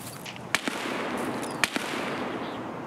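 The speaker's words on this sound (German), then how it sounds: "Ich werde beschossen." Two sharp gunshot cracks from Escape From Tarkov, about a second apart, each followed by a quick echoing report, fairly faint against a steady background hiss.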